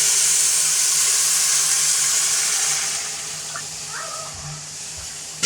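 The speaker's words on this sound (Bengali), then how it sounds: "এখন জল দিয়ে দিব" Water is poured into a cooking pot of pulao on a home stove, a loud steady hiss and gush that gradually eases, with no voices.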